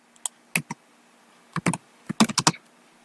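Keys on a computer keyboard tapped in short bursts of sharp clicks, a few isolated strokes then a quicker cluster, close and fairly quiet with no talking.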